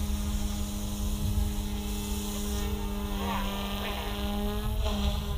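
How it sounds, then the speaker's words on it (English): An OMP Hobby M2 or Blade 230s V2 RC helicopter holding an inverted hover, a steady whining drone with strong harmonic tones that rise and shift slightly in pitch, continuous and moderately close. "that is a hands-off inverted hover"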